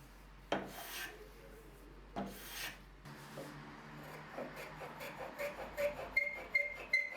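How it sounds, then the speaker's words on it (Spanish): A hand plane makes two long rasping strokes across two wooden pieces being planed flush on a shooting board, followed by lighter scraping and tapping of wood, close and fairly quiet. "Ahora podemos ensamblar las dos piezas y cepillarlas al ras."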